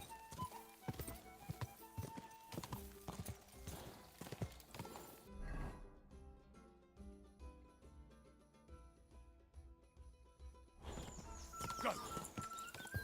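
Horse hooves clip-clop steadily at a gallop in the medieval game Kingdom Come: Deliverance II, close and rhythmic under game music, with a brief whinny and jingling tack.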